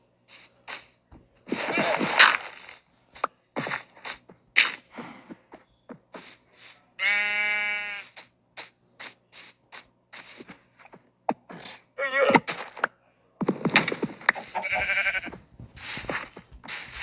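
Blocky sheep in Minecraft let out a few distinct, close bleats, one long wavering cry standing out among scattered clicks, taps and footstep-like game sounds, with quiet gaps between them.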